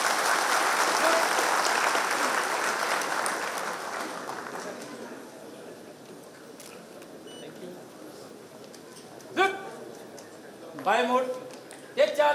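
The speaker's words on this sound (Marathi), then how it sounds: "तुमच्या टाळ्या फार कमी झाल्यात." Audience applause at a Mumbai Police retirement ceremony: sustained loud clapping for several seconds that fades away, followed by quieter scattered claps and brief bursts of sound near the end.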